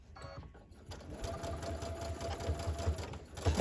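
Sewing machine running steadily along a long seam with lots of points, starting after a brief quiet moment and then holding a continuous rapid stitching whir, close but low in level.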